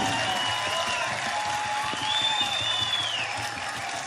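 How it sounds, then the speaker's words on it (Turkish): Audience at an international music festival night in Tarsus applauds steadily and fairly loudly for several seconds, a dense wash of clapping with a sustained tonal sound running beneath it. "özellikle alkışlarınızı göstermenizi istiyorum"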